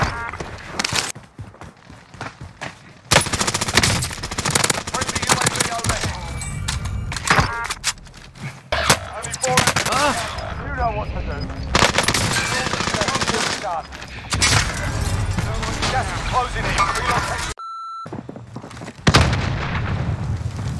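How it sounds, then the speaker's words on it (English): Rapid gunfire crackles through a Call of Duty Rebirth Island match, with dense bursts of automatic shots and booming impacts coming in loud waves, a brief cut to near silence, and game voices calling out over the shooting. "Hostile fire. Right on the second floor."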